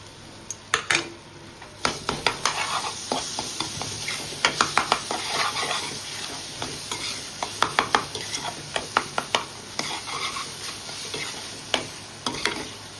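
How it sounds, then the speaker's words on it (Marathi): Chopped bananas being stirred into roasting semolina for rava shira, a spoon scraping and knocking against the pan in irregular clusters of sharp clicks over a soft background sizzle. "आता आपण त्याच्यामध्ये हे चिरलेले जे केळी आहेत ते टाकूया।"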